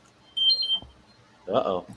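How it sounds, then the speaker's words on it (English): A short electronic alarm beeps in a room, a bright high tone that sounds briefly near the start, followed by a person speaking. "I thought I set off an alarm."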